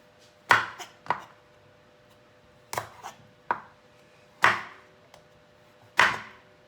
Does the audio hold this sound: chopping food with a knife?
yes